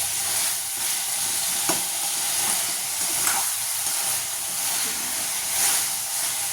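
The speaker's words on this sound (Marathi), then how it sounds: "मस्त प्रकारे हे आपल्याला परतून घ्यायचे आहे।" Sugarcane pieces and jujubes being sautéed in a pan, giving a steady low sizzle and hiss with faint stirring scrapes throughout and no talking.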